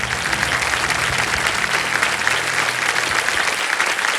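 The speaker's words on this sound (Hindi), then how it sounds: "तालियां बच जाए इनके लिए।" Loud, sustained studio audience applause on the Hindi game show Kaun Banega Crorepati, filling the whole stretch with dense, steady clapping and no talk.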